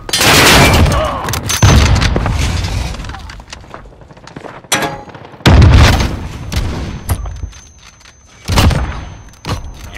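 Grenade blast and bursts of gunfire in a multiplayer shooter game, loud heavy booms and crackling shots at the start and again midway, separated by quieter stretches with game radio voices speaking.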